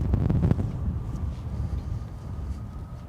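Steady low rumbling wind from a storm buffeting a microphone at London Gatwick Airport, with a stronger gust near the start, then continuous blustery noise.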